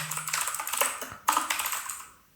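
Rapid keystrokes on a computer keyboard clatter close by in quick bursts, with a brief pause midway before another flurry that trails off.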